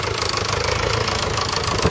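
A 1952 Allis Chalmers tractor engine runs at a country show, a steady, loud mid-pitched idle with a rapid, even knocking pulse throughout, close by and alone.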